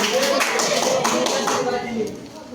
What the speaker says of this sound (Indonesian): Ya terima kasih tepuk tangan untuk Mas Hafiz